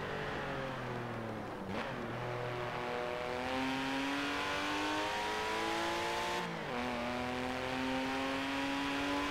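A naturally aspirated 2-litre Porsche engine in the Forza Horizon 4 racing game revs steadily and loudly, its pitch climbing through the gears with two short dips where it shifts, and no talking over it.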